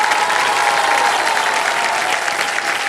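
Studio audience applause on a TV quiz show set, a dense, loud and continuous clapping from a large crowd that holds steady the whole time with no voices on top.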